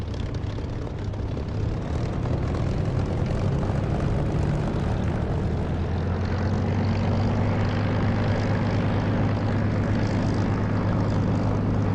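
Aircraft engine in the DCS flight simulator, running with low oil pressure, droning steadily and climbing slowly in pitch as it is revved, loud and continuous with no talking.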